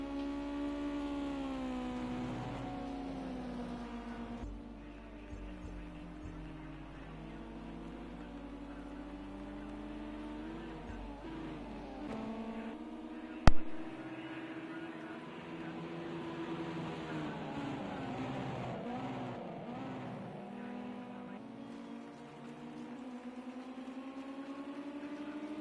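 Race car engines in Gran Turismo 5 drone steadily throughout, rising and falling in pitch as the cars jostle for position, with a brief sharp click or knock around the middle of the stretch.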